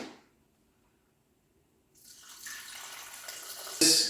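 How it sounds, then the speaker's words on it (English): Water poured from a tap into a blender jar holding soaked cashews and almonds, a steady close rush building after a quiet start and ending in a louder splash. "Add some water in it."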